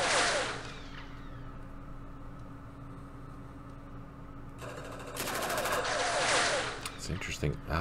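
Mortar fire in the Campaign Series Middle East wargame, with bursts of loud impacts near the start and again toward the end, separated by a quieter stretch of low rumble.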